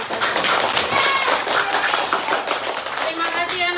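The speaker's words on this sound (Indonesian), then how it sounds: "tepuk tangan untuk kita." A class of students in a coding and artificial intelligence lesson claps hands together, a dense, steady burst of many hands close by, with voices mixed in throughout.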